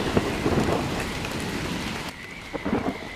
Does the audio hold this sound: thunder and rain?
yes